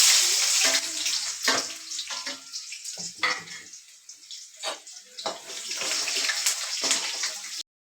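Chopped potatoes, water chestnuts and onions drop into hot oil, giving a loud initial hiss that breaks into irregular crackling and sputtering bursts, close and without speech.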